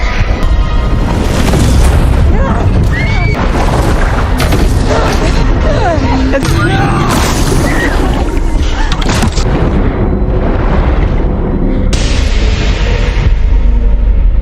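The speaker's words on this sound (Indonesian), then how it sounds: "helmnya keburu meledak sebelum dikompresi tertutup sempurna" A loud, dense burst of roaring noise and booming rumble as a helmet explodes fills the whole stretch, like an explosion mixed with chaotic action sounds, with voices faintly underneath.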